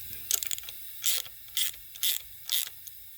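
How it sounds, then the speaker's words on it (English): A ratchet wrench adjusting bolts on a Honda B-series engine head, heard as a few quick clicking bursts and then four evenly spaced ratcheting strokes close by, with no talking. "I'm going to adjust these bolts to get it a little bit straightened out"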